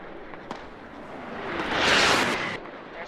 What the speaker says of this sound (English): It's a really concentrated smoke barrage.